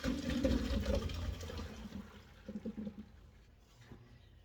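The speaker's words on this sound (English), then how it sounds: "I'm getting ready to pour the potatoes out" Boiled potatoes and their water pour from a pot into a strainer in a gushing splash that tapers into lighter trickles and drips, fairly close and moderately quiet.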